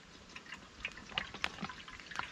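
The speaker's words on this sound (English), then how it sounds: "So we're going to get some water into this one." Water trickles and drips into a camping cooking pot at a wild campsite, with faint splashes and small droplet sounds in a quiet outdoor setting.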